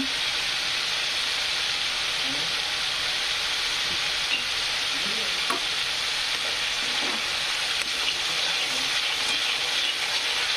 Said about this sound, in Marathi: आता छानपैकी मसाले फ्राय झाले तर